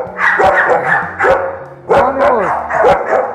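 An aggressive, guard-type dog barks loudly and close in repeated bursts of deep, rough barks, with people speaking briefly between them.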